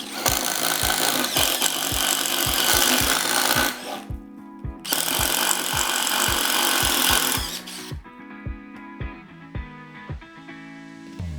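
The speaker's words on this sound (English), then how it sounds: "for those of you that drill holes with your impact drivers, we're going to do 3 holes with a 1/2 inch titanium coated twist bit" Subcompact impact drivers bore three holes into wood with a 1/2 inch titanium-coated twist bit: loud, rapid hammering bursts of several seconds each, broken by short pauses, then a lighter rattling run at the end.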